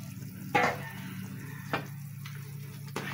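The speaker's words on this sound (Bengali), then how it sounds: "আমার ঝোলটা টকবক করে ফুটে গেছে" Bengali curry broth for baim fish with potatoes bubbles and sizzles softly in a pot as fish pieces are dropped in, giving a few soft splashes over a low, steady simmer.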